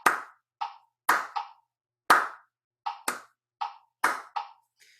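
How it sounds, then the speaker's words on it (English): Hands clap a 3-against-4 polyrhythm, with crisp, close, dry claps in a repeating uneven pattern where louder and softer hits interleave, separated by clean silence and no voices. "In order to clap 3 times over that"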